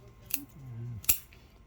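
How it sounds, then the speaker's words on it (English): Sharp scissors snip through the roots of a Japanese black pine bonsai during repotting, two crisp close cuts about a second apart in a quiet setting. "Trimming the roots with a sharp pair of scissors."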